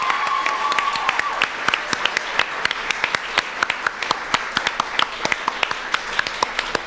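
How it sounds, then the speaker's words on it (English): Scattered clapping from an awards-ceremony audience, honoring the award winners at a teen arts week launch event; sharp claps ring out in an uneven, moderately loud patter that stays fairly sparse throughout, with a brief faint tone near the start. "Can we get a big round of applause for all the award winners, please?"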